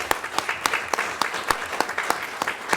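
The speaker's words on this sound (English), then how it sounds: "Give me a clap." A city council meeting audience claps for young people in a brief burst of applause, with distinct sharp hand claps scattered through a lively patter.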